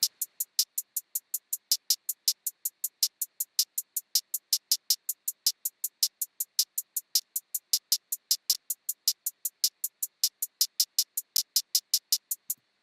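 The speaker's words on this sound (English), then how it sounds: "hi-hats, and I'll just play both of them together" Bright, thin electronic hi-hats tick in a fast, steady pattern, some hits accented louder than others, with nothing else playing.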